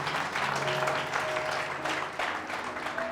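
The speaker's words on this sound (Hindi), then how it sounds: "जोर से ताली बजा सकते हो परमेश्वर के लिए।" Congregation applause during a Hindi-language Christian church sermon: dense, steady clapping fills about three seconds, with faint held tones beneath.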